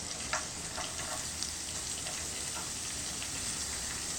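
A bowlful of finely chopped onion sautés in a pan, a continuous close crackling sizzle with occasional light stirring clicks, no voices.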